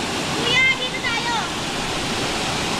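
Steady rushing roar of a waterfall at the falls, with people bathing in the water nearby; a few brief high whistles or voices rise over the constant wash.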